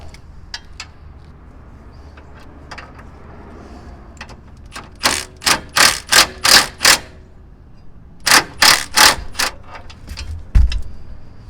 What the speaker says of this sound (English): now I'm just going to use a swivel with my impact gun so it can come